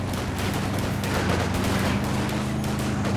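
Battle in Company of Heroes 2 on the Elst Outskirts map, with dense continuous gunfire, crackling bursts and booming mortar and engine rumble underneath, loud and unbroken throughout with no talking.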